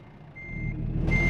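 A Volvo VNL truck in American Truck Simulator backs up to hitch a trailer, its reversing alarm sounding two steady beeps over a low diesel idle that swells louder.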